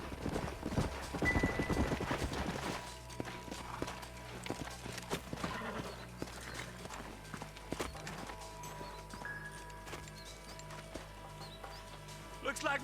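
Horses' hooves clip-clopping on a trail in the Red Dead Redemption video game, a busy close patter of several hoofbeats with occasional snorts, faint ambient sounds and some speech in the background.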